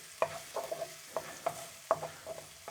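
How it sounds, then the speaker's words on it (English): Black beans and garlic fry gently in oil in a pan, with soft sizzling and a series of light scraping stir strokes recurring every half second or so, close and fairly quiet. "So we're just gently going to fry this off, if you like."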